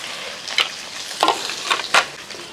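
Ginger, garlic and green chillies frying in a pan while being stirred, a steady soft sizzle broken by four or five scraping stir strokes spread over a couple of seconds, close and without any talk.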